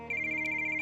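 A phone's timer alarm rings with a steady, high electronic tone that starts abruptly and holds continuously, sounding alone without any talk.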